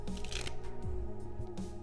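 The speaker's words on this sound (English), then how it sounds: "Shuffle once again" A deck of playing cards is shuffled up close during a card magic routine, giving a dense run of riffling flutters and soft slaps over low background noise.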